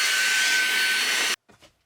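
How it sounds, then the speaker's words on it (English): A loud, steady vacuum cleaner roar cleaning a mattress in a hard-sided rooftop tent on a 4Runner, running continuously, then cutting off abruptly as the vacuum dies, leaving near silence with a couple of faint soft shuffles. "we have to vacuum first."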